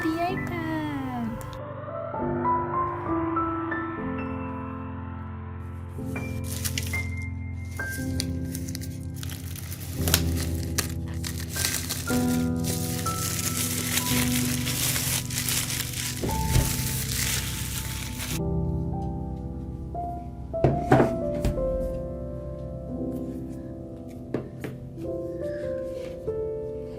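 Packaging from a new iPad Pro and its separately bought pencil being handled and opened, with crinkles, crisp rustles and occasional sharp snaps and taps at close range, set against steady background music.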